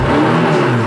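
A Honda S800 sports car engine revving hard toward high rpm, a loud, close, buzzy mechanical howl sustained through a single short burst.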